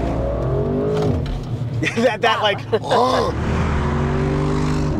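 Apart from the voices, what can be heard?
Audi RS 6 Avant sport exhaust while accelerating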